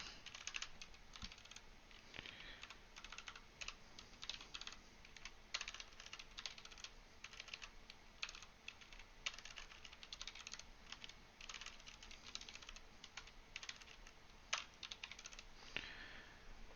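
Fast, quiet clicking of a computer keyboard during steady typing, keystrokes pattering continuously in irregular bursts with no voices.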